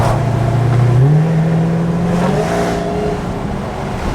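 A Dodge Charger Hellcat fitted with a new intake revs loudly up close, its deep engine note rising and falling in a sustained roar with supercharger whine, no talk.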